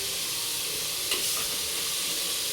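Chopped tomatoes fry in a pan for a vegetable masala sagu with ridge gourd, giving a steady, even sizzle throughout with a brief louder stir or scrape partway, and no talking.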